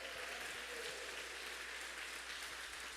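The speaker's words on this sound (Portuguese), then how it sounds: "Dá um aplauso ao Senhor aí, meu irmão." Church congregation clapping for the Lord during a Pentecostal service, a steady broadband patter of many hands held at a quiet, even level throughout with no voices on top.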